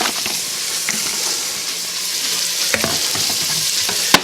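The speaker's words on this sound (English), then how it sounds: "oil in the pan. And I'm going to put our onions in," Chopped onions fry in hot oil in a pan, a steady loud sizzle and hiss with scattered crackles and a few sharper clicks from stirring, no voices over it.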